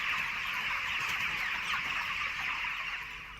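Chickens on a Kenyan poultry farm cluck and murmur as a dense, continuous flock chatter, moderately faint and without speech.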